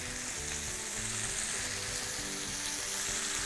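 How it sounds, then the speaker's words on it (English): Five scallops sear undisturbed in a hot frying pan, giving a dense, even, continuous sizzle at steady volume with no talking. "So now I will have them in my pan and I leave them where I put them."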